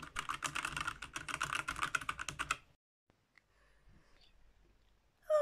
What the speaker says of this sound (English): Oh, just type it in.